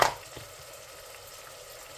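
Turmeric and coriander powder frying in a pan make a soft, steady sizzle after a brief clatter at the start, quiet and close with no talking.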